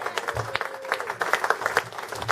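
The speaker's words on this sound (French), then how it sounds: "Est-ce que quelqu'un peut applaudir pour le Seigneur?" A church congregation claps for the Lord in quick, irregular, overlapping claps that sound fairly close and carry on for a couple of seconds.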